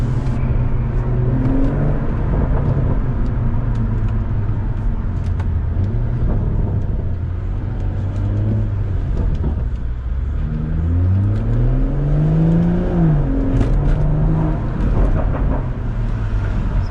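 A BMW M140i with its exhaust resonator deleted revs loudly and continuously, its exhaust note rising and falling through several throttle blips, close and steady throughout.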